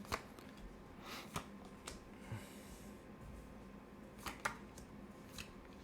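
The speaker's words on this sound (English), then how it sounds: "Like I do a shuffle, want to be a hard shuffle." Tarot cards shuffled in quick bursts, with crisp riffling clicks and a couple of sharper snaps, close by with no talking.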